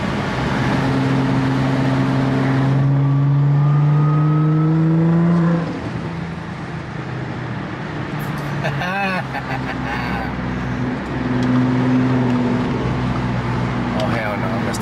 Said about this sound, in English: Damn, the downshifts are so satisfying.